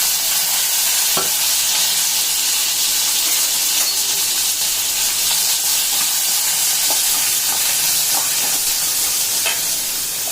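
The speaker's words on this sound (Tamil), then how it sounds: "நல்லா வதக்கிக்கிறலாம் கால் கொஞ்சம் நல்லா இதில் வதங்கட்டும்" Crab legs sauté in oil with chilli, turmeric and curry leaves for crab rasam, giving a loud, dense, unbroken hissing sizzle with a few faint scrapes of stirring.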